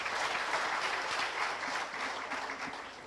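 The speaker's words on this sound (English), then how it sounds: "Give a round of applause for the word heavenly here." An indoor audience at a reception session breaks into a steady round of applause: dense, even clapping that holds for a few seconds and tapers slightly, heard at a moderate distance.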